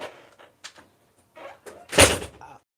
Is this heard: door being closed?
yes